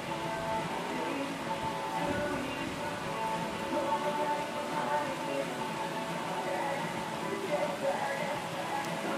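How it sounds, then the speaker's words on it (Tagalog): Steady rain falls outdoors as a continuous broadband hiss, moderately loud and even throughout, with no distinct drops or thunder standing out. "At sana medyo lumakas ang ulan."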